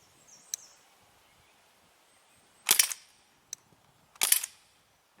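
Two sharp, snappy shots from a Crosman 1077 air rifle fired off a makeshift bipod outdoors, spaced a couple of seconds apart, with a few faint clicks in a quiet setting.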